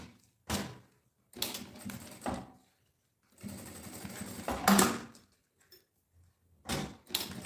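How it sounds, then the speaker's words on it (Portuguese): Short bursts of a sewing machine stitching a backpack strap, four or five separate runs of rapid mechanical chatter separated by quiet pauses, close and fairly loud. "encosta aqui e costura"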